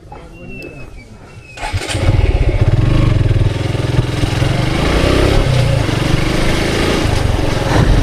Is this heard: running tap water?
no